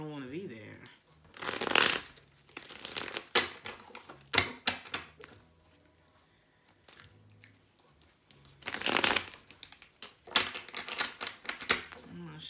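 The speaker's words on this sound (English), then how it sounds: "I'm gonna shuffle." Cards are riffled and shuffled in two quick bursts, crisp and close, with soft handling noises and a voice speaking between them.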